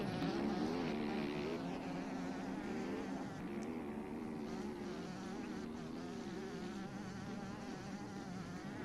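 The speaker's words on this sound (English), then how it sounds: "I hear a bumblebee in my left ear here. That's Dark from MCC flying through that section on the 125." A 125cc dirt bike in the MX Bikes motocross game drones past at a distance, a thin, steady insect-like buzz that wavers in pitch over a constant rumble of other engines.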